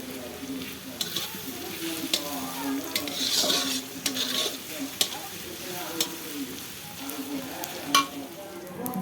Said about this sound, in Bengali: বেরেস্তাটা আমি সুন্দর করে ভাজি নেব